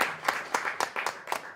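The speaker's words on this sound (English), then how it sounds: "Let's give Anders a round of applause." Conference audience claps after a presentation, a short burst of distinct, fairly close hand claps in an uneven rhythm that stays moderately quiet throughout.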